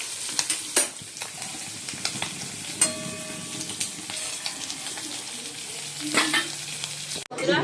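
Food fries in a pan with a soft, continuous sizzle under scattered clinks, scrapes and stirring knocks of utensils, close-up in a home kitchen with no speech.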